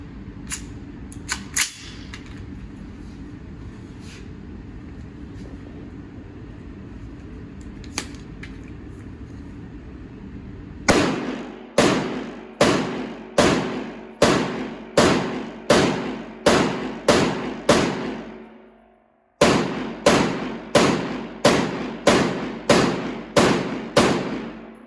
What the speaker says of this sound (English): So let's do the whole shoot.